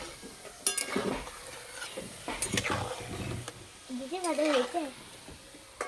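Ripe mango nadu frying in hot oil while being stirred, a faint sizzle with intermittent scraping and clinks of a spoon against the pan, with a voice briefly heard in the background.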